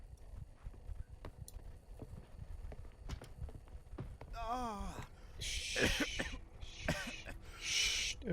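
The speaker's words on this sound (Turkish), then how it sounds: "Öksürme lan." Someone coughs in the horror video game Maid of Sker: several harsh, breathy bursts in the second half, following a vocal sound, over quiet footsteps and background noise.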